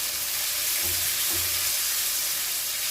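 Spice paste frying in hot oil in a pan for prawn malaikari, a loud, continuous close-up sizzle with a couple of brief low stirring scrapes.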